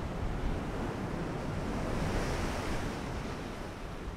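Ocean waves buffet a heavy cruiser in the naval warfare game Ultimate Admiral: Dreadnoughts, giving a continuous broad rushing surf and wind wash at a steady, fairly loud level with no voices over it.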